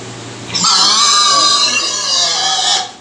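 Newborn piglets squeal loudly and shrilly in a pen, a sustained piercing chorus starting abruptly and holding for about two seconds before fading.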